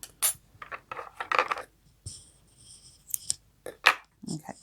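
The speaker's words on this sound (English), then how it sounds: "and cut your yarn." Scissors cut through crochet yarn with several close, sharp metallic snips and clicks, set among quiet handling noises of the yarn and tools.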